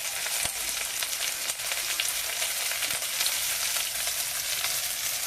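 Garlic, ginger and green chilies sauté in hot oil with chopped onion, making a dense, continuous sizzle at close range with a couple of faint stirring taps and no speech.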